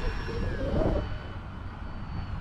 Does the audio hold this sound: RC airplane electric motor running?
yes